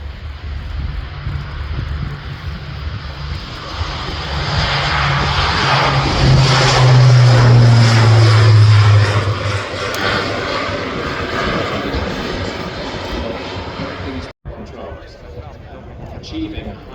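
A military aircraft rotates and climbs away at the RIAT 2024 airshow, its engine roar swelling to a loud peak mid-clip and then easing off, with commentary running over it throughout.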